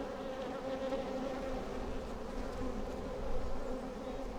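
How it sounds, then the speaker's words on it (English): Honey bees swarm around large hives packed with honey and brood, making a dense, steady buzzing drone that stays close and continuous with no talking. "yeah, lots of bees. And lots of bees coming too"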